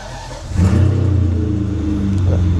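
An already warmed-up car engine revs up sharply after a quiet start, settling into a loud, steady growl close by.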